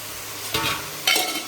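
Water poured into a pan of cooking chicken for a rasa curry, two short loud hissing bursts rising from a quiet background.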